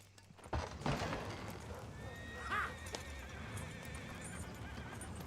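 A horse in Red Dead Redemption 2 gives a clear whinny in the middle of the clip over a continuous bed of hooves clip-clopping and ambient outdoor game sound, fairly quiet overall.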